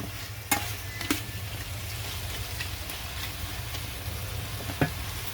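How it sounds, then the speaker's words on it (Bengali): Chicken being stirred and braised in a pan, with a steady close sizzle and a few sharp knocks of the utensil against the pan, and no voices. "এখন আমি নেড়ে চেড়ে দিচ্ছি মুরগি মাংস।"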